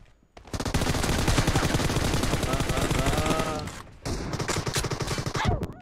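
Sustained rapid gunfire fills a PUBG Mobile clan war match, with loud bursts rattling almost continuously, a brief pause near the four-second mark, then more shots; a voice talks over it.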